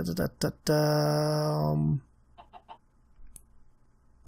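A few short clucks, then a long drawn-out squawk, followed by quieter scattered chicken clucks in sparse surroundings, from the game Sky Factory 3.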